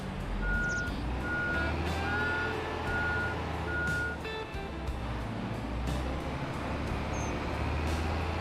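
Steady electronic reversing beeps from a truck in a farming video game, repeating at an even pace over a low, constant engine rumble, with a few brief higher tones and no talking.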